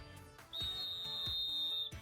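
A lifeguard's whistle gives one long, steady, shrill blast of over a second. It sits over a light rhythmic musical backing with soft beats.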